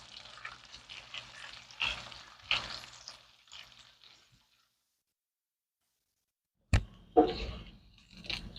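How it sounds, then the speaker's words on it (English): Bacon frying in a covered pan until crispy: a soft crackle and bubbling under the lid that fades to near silence, then resumes with a sudden louder burst of sizzling and spattering. "I'm just going to be cooking this until I get the bacon nice and crispy"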